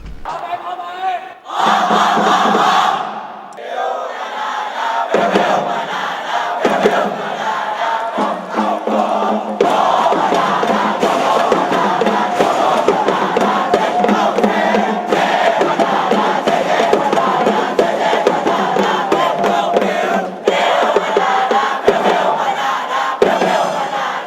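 University cheer squads cheer together at a robot competition, a loud massed crowd of chanting and shouting that swells after a brief opening and then carries on strongly and continuously to the end.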